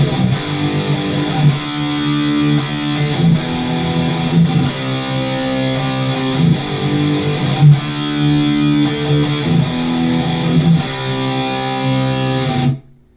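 Distorted six-string electric guitar plays power ballad chords in an 80s hair metal style, a dense, loud, sustained strummed progression with rhythmic accents that cuts off near the end.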